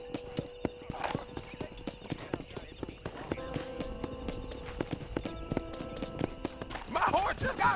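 A horse gallops with steady clip-clop hoofbeats and whinnies in Red Dead Redemption, the hooves loud and close throughout, with a louder burst of movement near the end.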